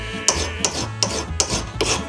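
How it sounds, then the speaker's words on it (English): Metal file rasping across a machined L-shaped steel part during an oil cooler install on a Toyota Altezza: five evenly spaced strokes, close and fairly loud, with no talk. "I might spend some time with a file"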